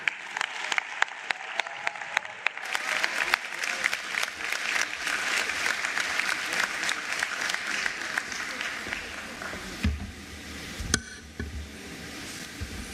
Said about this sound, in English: let's please put a warm round of applause for Minister Sivue Kwahube